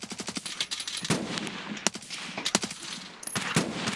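Rapid bursts of automatic and single gunfire from an Escape from Tarkov match crack repeatedly at varying distances, irregular and sharp with no speech.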